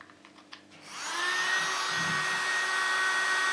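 A small USB-powered mini vacuum for cleaning camera sensors switches on after a faint tap or two, then whirs with a steady high-pitched whine and airy rush, close and continuous.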